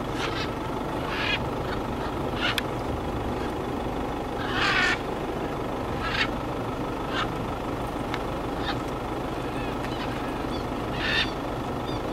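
A flock of blue-and-yellow macaws calls in the open countryside of central Brazil, giving harsh, squawking bursts at intervals over a steady outdoor background.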